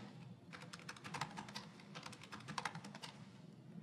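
Soft, rapid keystrokes on a laptop keyboard as a username is entered, a steady run of faint clicks over low room hum.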